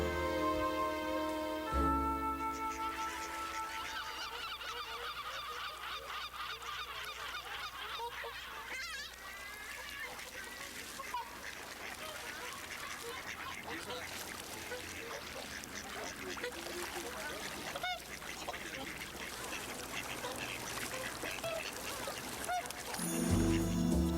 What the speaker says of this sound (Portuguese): Muitas espécies de pássaros selvagens param aqui como se o lago fosse natural.